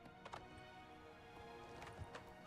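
Horse hooves clip-clop in the video game Oblivion Remastered, a run of quick, fairly quiet hoofbeats over a steady game backdrop with a couple of brighter accents.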